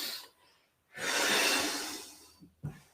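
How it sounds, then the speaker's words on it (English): A person inhales during an at-home ab and trunk stability workout. One long, close, breathy intake swells and fades over about a second and a half, with short faint breaths before and after. "hand just about a foot away from the body, breathing in"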